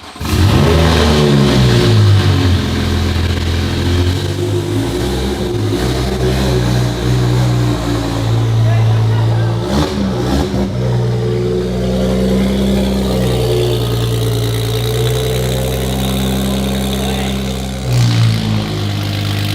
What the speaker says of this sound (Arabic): بعد كده بيشغلوا المحرك وصوت الستة سلندر بيملى المكان.